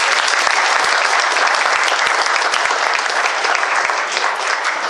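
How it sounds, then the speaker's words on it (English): A hall full of people gives a loud, dense round of applause at a building dedication ceremony for Cunningham Hall at NWOSU, sustained and even throughout with no talking over it. "Let's give him a round of applause."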